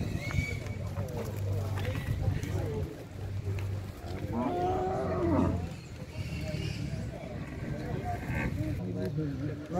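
Cattle at a livestock fair in Ibiapina, Ceará, with oxen and dairy cows lowing and mooing amid a busy crowd, someone talking loudly over the animal calls throughout.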